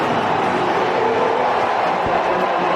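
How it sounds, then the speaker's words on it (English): A large stadium crowd at a baseball game chants a player's name, a dense continuous roar of many voices that stays steady and loud throughout, with no single voice standing out. "The whole crowd here is chanting Ozzie's name."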